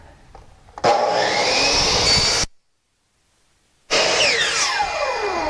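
A power saw cuts a 45-degree angle in base trim, whining loudly in two bursts separated by a brief silence, with a faint mechanical click just before it spins up.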